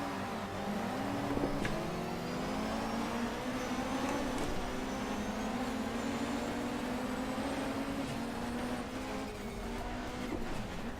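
Race car engine in the GTR 2 racing game, a 1993 BTCC touring car at Donington Park GP, revving and climbing steadily through the gears at a race start, loud and continuous with other cars around.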